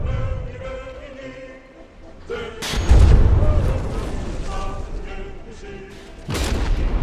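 Naval guns in a warship battle game fire a heavy salvo, a loud booming blast that rumbles away, then a second boom at the end, over a continuous low hum of engines.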